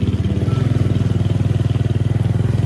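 A motorcycle engine drones loudly and steadily under throttle while climbing a steep hill on a dark trail, a close, pulsing mid-pitched roar with no talk.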